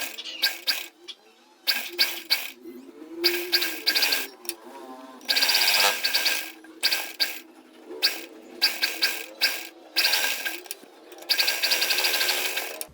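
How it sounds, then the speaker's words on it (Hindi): Sewing machine stitching a curved kurti sleeve seam in short repeated bursts of rapid needle clatter separated by brief pauses, close and moderately loud with no talk. "अब यहाँ से स्टिचिंग कर देना है गोलाई में।"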